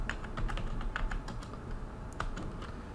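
Rapid keystrokes clatter on a computer keyboard while network commands are entered for a router interface, an uneven run of close, crisp clicks with brief pauses and no voices.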